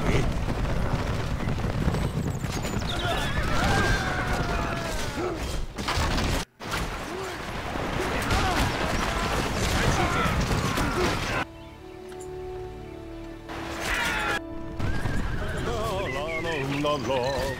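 Horses in the Battle for Middle-earth II video game neigh and whinny as they pull up and stop, amid dense battle noise and clattering mechanisms, with a sudden drop in the din partway through.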